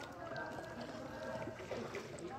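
A boat is paddled through water at Debotakhum, with soft sloshes and strokes sounding faint and close beneath people talking.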